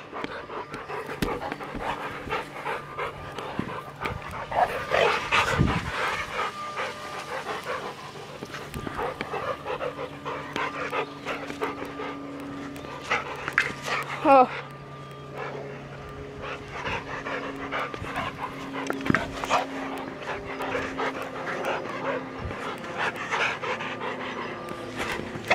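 Dogs pant rapidly and continuously close by, a rhythmic huffing that runs the whole time, with occasional small whimpers and outdoor rustling.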